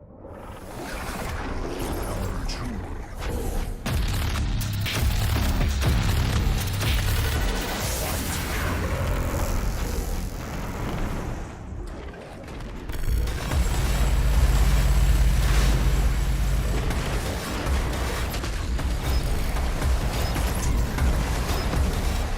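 Rocket blasts in Doom, fired at super close range during an Ultra Nightmare run, come as heavy low booms in a dense, continuous stream of game noise, with a louder surge of explosions late in the stretch.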